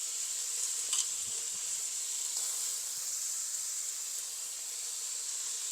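Onion, carrot and other vegetables stir-fried together in a pan for pineapple fried rice, giving a steady, even sizzle throughout with a few faint scrapes of stirring near the start.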